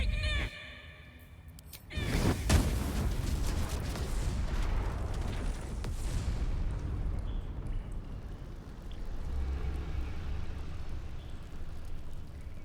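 A deep, rumbling explosion booms in Baldur's Gate 3 after a brief tonal sound, then a long roaring, crackling tail that slowly fades over several seconds.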